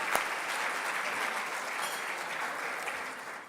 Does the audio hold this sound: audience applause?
yes